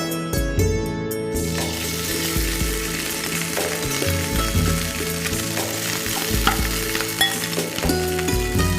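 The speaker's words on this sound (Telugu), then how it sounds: "ఇంకా యాలికలు, ఇది కాస్త ఫ్రై చేసుకోవాలి." Cardamom and spices fry in hot oil for an achari paneer pulao, a steady dense sizzle running throughout with occasional stirring clatter, close and fairly loud, with no voices.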